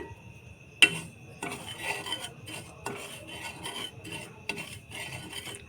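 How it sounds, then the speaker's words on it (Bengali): About a cup of semolina dry-roasts in a pan while a spoon stirs it. Quiet, repeated scraping and clinking strokes of metal on the pan follow one another with no talking. "এখানে এক কাপ মতো সুজি ভেজে নিচ্ছি"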